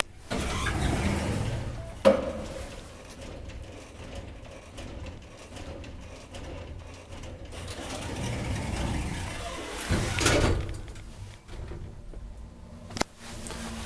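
Rare 1999 Kone traction elevator in a Helsinki apartment building running between floors, a steady mechanical hum with clunks and a louder whoosh of door or car movement near the middle, plus sharp clicks of relays.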